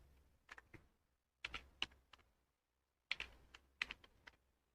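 Bursts of crisp key clicks on a computer keyboard, typing spreadsheet entries into Excel: a short cluster, a pause, then two more quick flurries, close and quiet with silence between.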